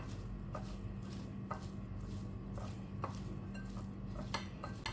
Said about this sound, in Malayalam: ഇനി ഇത് നമുക്ക് ജസ്റ്റ് ഒന്ന് ഇളക്കി അതൊന്ന് മാറ്റി വെക്കാം